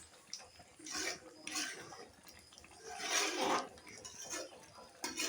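Chicken gravy is stirred in a cooking pot, with a spoon clinking and scraping against the metal in several uneven bursts, close and fairly quiet.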